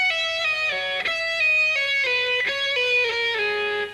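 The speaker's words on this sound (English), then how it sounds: "Now this sound with a lot of pull-offs gives you a real legato sound like this." An electric guitar plays a fast legato run of pull-offs in Randy Rhoads style, with clear descending note clusters. A few pick attacks come at a steady pace, and a low constant hum sits beneath the run.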